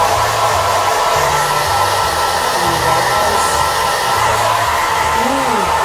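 A hair dryer blows steadily and loudly on thin, colour-treated hair during an at-home highlighting session, a constant whooshing airflow with faint voices murmuring underneath.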